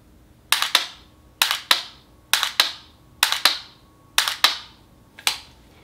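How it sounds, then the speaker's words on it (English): A rifle's trigger is dry-fired during home practice with a Mantis Blackbeard training system, giving six crisp double clicks about a second apart, close and sharp against a quiet room. "That's all I'm doing, just dry fire."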